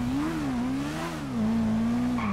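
A steady motorcycle engine drone in Grand Theft Auto V, rising and falling in pitch as it revs, continuous and loud, accelerating.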